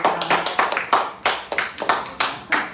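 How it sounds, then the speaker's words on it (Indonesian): Close, loud hand claps from a teacher's class session ring out in short bursts, roughly a dozen sharp slaps falling in an uneven rhythm with brief pauses between groups. "tepuk tangan buat"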